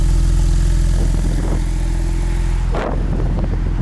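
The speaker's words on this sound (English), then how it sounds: "This one does have the sport exhaust," A 2019 Porsche 911 Carrera GTS with a twin-turbo flat six and sport exhaust idles loudly and steadily up close, with a couple of brief throttle blips breaking the even drone.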